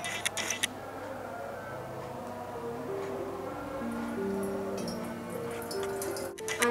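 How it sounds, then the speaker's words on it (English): Water poured from a bottle or funnel into a plastic bottle, filling it about a quarter full for a blobs-in-a-bottle experiment, heard as a steady trickling gurgle with a rising tone as the bottle fills, up close and with no talk. "First, pour the water into the bottle."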